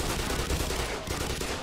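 Rapid gunfire rattles in Black Mesa, a dense, continuous burst of shots at moderate distance with no talk over it.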